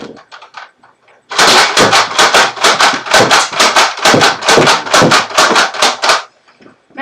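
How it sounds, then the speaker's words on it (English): A chain-fed Adventure Force Nerf blaster fires darts at a balloon in a steady rapid burst of loud, sharp mechanical thumps that lasts about five seconds and then stops, with a few softer clicks before and after it. "now I'm going to try with this chain fed Adventure Force gun"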